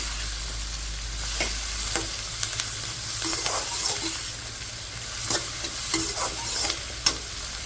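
Masala, cauliflower and potato fry together for aloo gobhi, producing a steady sizzle broken by repeated scraping stirs of a spatula against the pan at close range.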